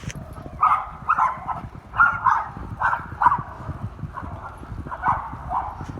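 Dogs bark repeatedly at a distance during a walk, a series of short yapping bursts in irregular clusters heard over footsteps and outdoor ambience.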